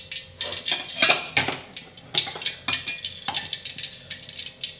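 Spice paste is stir-fried in a pan for a tumis of genjer and tempe, with clattering metal scrapes and clinks of a spatula against the pan in irregular strokes and no talk.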